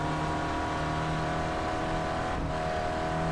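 Race car engine in a VR dirt rally video game, a loud, sustained droning rev that holds steady throughout with a brief dip near the end, no speech over it.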